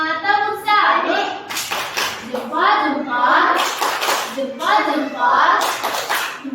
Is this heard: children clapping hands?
yes